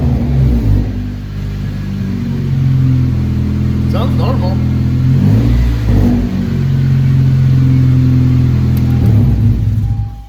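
A Honda Civic Si engine idles and revs in a steady mid-pitched drone, close by, while people talk over it.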